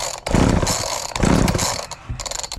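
Chainsaw being pull-started by its starter cord, with a foot on the handle, loud rasping yanks in repeated surges while the faulty engine fails to catch.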